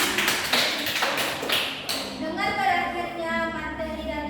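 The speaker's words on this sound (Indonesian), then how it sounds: "beri aplaus kepada Dina" A small class audience at a school practical exam claps briefly in a quick patter of hand claps, which fades as a voice begins talking.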